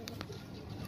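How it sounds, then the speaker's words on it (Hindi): Pigeons packed in a transport crate give a brief, faint soft coo with light shuffling over low background rumble. "ये पूरे 50 कबूतर है भाई।"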